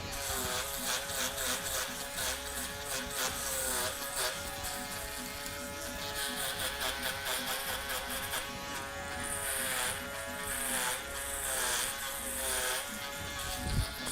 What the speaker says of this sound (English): I'm going to use the shaver, and I'm going to go just below the line that I put in with the detailer.